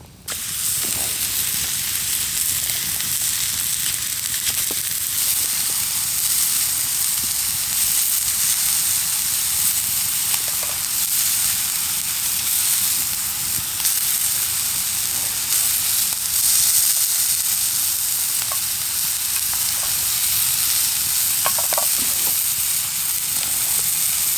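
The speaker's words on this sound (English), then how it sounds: "On goes the rump steak." Rump steak frying in a pan inside a hot tent during winter camping, giving a loud, continuous sizzling hiss with occasional pops and no talk.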